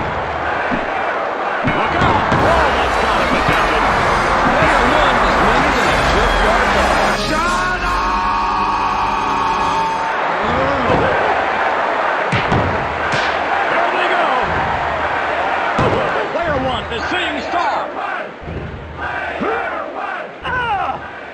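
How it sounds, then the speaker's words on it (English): In the N64 wrestling game WWF War Zone, a loud, constant crowd roars and yells, punctuated by heavy slams and thuds of wrestling impacts throughout. "The crowd in this game just doesn't know when to shut the fuck up."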